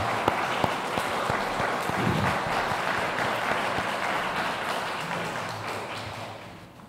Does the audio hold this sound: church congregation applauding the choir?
yes